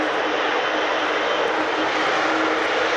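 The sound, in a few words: display aircraft starting its takeoff roll at RIAT airshow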